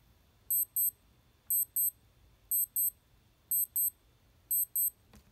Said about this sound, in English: you can listen to the alarm.